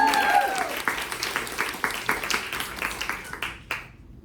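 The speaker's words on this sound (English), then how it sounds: "Can we give a round of applause?" An audience claps through a round of applause at a presentation event, a dense steady patter of many hands that slowly thins and fades out near the end.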